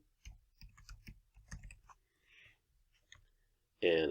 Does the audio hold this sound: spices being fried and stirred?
no